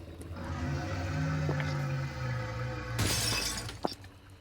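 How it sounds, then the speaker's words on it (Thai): Glass shatters in a horror video game, a sudden loud crash with a bright, scattering tail, preceded by a low droning game ambience and followed by a faint clink. "ตรงนี้กระจกแตก"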